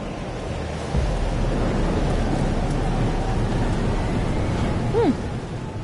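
A thunderstorm in the video game Life Is Strange: Double Exposure: heavy rain roars loudly and steadily, with a low rumble of thunder rolling in early and a brief sweeping tone near the end.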